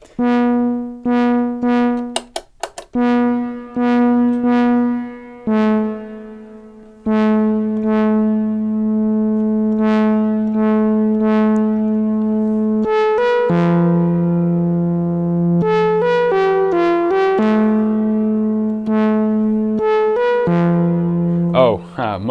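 Sustained Korg Minilogue XD synthesizer notes and chords play in a slow sequence, bathed in a long, spacious hall-like reverb tail, with no talking.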